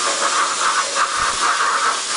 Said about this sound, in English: Got a little fan fired up here.